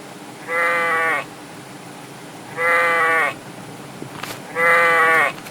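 Three separate bleats from a sheep in a cartoon story, each about half a second long, evenly spaced and clear over a low background hiss.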